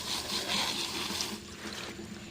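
Water running and splashing as a fish pond filter is rinsed by hand: a soft, close, continuous trickle and gush, fairly quiet, alone without speech.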